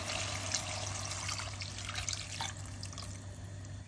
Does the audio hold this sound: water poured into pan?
yes